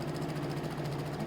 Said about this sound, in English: if you just go ahead and sew a straight stitch